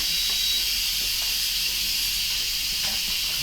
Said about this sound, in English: I've making a bit of steam in the kitchen, which I wanted to avoid